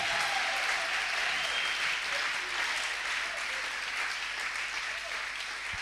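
A church congregation applauds steadily throughout, a dense, continuous roar of clapping from a crowd in a worship service.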